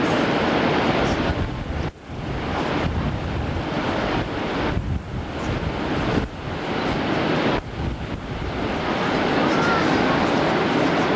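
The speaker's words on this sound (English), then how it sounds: "There's the rapids." River rapids near Niagara Falls, a loud continuous rushing roar mixed with wind buffeting on the microphone, steady throughout with a few brief dips.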